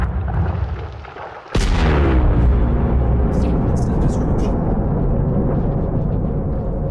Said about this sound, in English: This is a deep core mining explosion in Elite Dangerous.